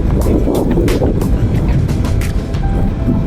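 A Honda Giorno scooter rides along a wide road, its engine and road noise a continuous low rumble mixed with gusts of wind buffeting the microphone.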